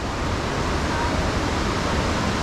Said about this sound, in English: I see the waterfall.